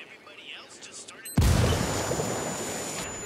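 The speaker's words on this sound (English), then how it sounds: "Some hombres close by heard the explosion." A sudden loud blast in the video game Ghost Recon Wildlands, a heavy boom that hits after a quiet stretch and trails off into a sustained rumble, with a voice talking faintly beforehand.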